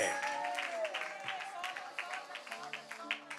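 Church congregation clapping together in a steady rhythmic beat, moderately distant and soft, under a preacher's voice talking over it.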